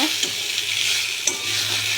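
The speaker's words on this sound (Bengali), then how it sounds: "মশলাটা একটু এর সাথে ভেজে নেব আলুর সাথে" Steady sizzle of turmeric and coriander powder frying with potatoes, stirred in a pan, with a couple of light scrapes of the spoon against the metal.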